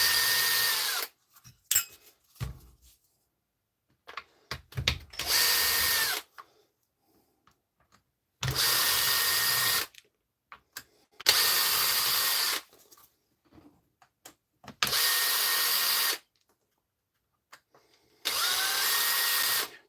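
A DeWalt power drill backs screws out during a repair, sounding as a series of loud, steady whirring bursts of one to two seconds each, separated by quiet pauses and small clicks.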